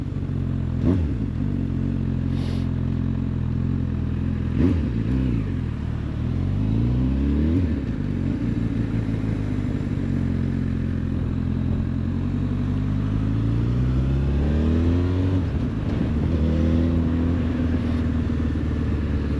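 A 2025 Honda CB 1000 Hornet SP motorcycle accelerates nearby, its engine note sweeping upward repeatedly through the gears over a constant rumble and wind, with no talking.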